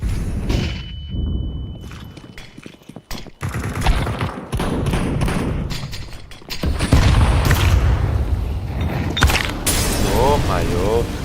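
A flashbang grenade goes off in Counter-Strike 2: a loud, broad boom in a busy gameplay scene, with a high steady ringing tone early on, scattered bursts of gunfire and other thuds throughout.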